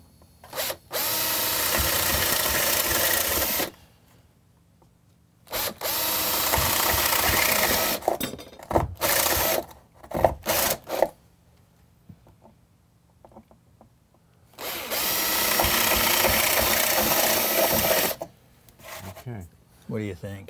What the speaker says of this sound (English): so I'm just going to use this unibit